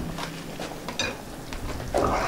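A spoon stirs pasta in tomato sauce in a pan, with scraping clinks of utensil against the pan and soft wet sloshing, close and fairly quiet, ending in a louder swirl.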